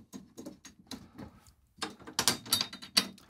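Snare drum tension rods being finger-tightened, a few faint, close ratcheting clicks and metallic ticks in short irregular bursts that get slightly louder toward the end.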